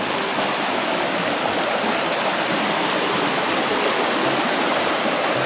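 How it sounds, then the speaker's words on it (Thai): Steady, loud rush of a waterfall in Chiang Mai, Thailand, a dense broadband roar of falling water that holds constant for the whole stretch with no voices. "โอ้น้ำตกมันเป็นน้ำตก"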